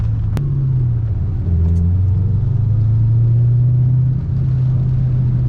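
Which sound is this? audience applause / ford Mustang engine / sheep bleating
ford Mustang engine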